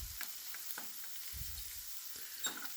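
Hamburgers fry in a pan on a wood stove, a steady soft sizzle with scattered scraping and clinking as the patties are moved, close and fairly quiet.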